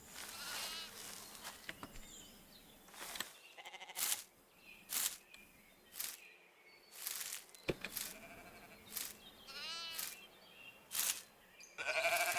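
Starving sheep bleat on a farm, with about a dozen loud, separate cries coming close together. Faint insect buzzing fills the gaps between them.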